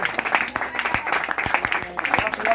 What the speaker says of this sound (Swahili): Pigeni Sister Karen makofi